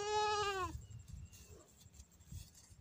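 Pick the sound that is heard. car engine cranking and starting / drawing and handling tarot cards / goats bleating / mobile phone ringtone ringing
goats bleating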